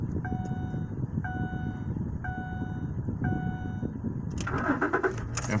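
Car engine cranking and firing up, a starter whirring steadily under repeating electronic chimes before the engine catches with a louder rising roar near the end, close by.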